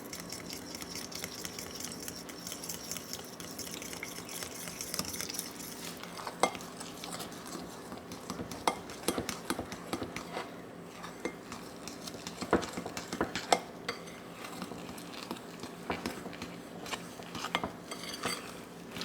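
A fork stirs thick blueberry muffin batter in a bowl, giving a continuous soft scraping and clinking of metal against the bowl at close range, with occasional sharper taps.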